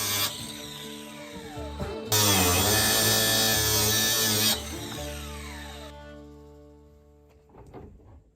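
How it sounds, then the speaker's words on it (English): Angle grinder slicing off screw tips poking through a wooden trash can enclosure, a steady high whine that jumps to a loud, harsh cutting scream for a few seconds, then spins down and fades. "I had to cut them off with an angle grinder"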